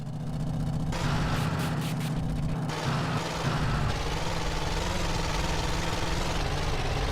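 A battered drug-running vehicle in GTA San Andreas idles with a steady, loud low rumble that shifts pitch partway through, while a brighter whine flickers briefly near the start, with no talk.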